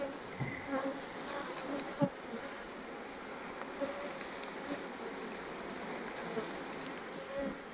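Honeybees buzzing steadily as they are scooped into a nucleus hive late in the season, a dense continuous hum with a few soft knocks and bumps, close and fairly quiet, no voices.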